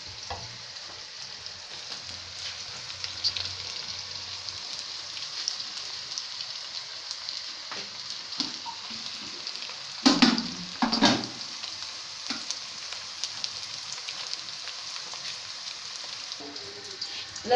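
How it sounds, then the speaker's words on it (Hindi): Onions browning in hot oil in a pot for aloo matar curry, a steady soft sizzle and crackle throughout, with a couple of louder stirring scrapes partway through, close but fairly quiet. "ये अब मैं प्याज ब्राउन करूँगी।"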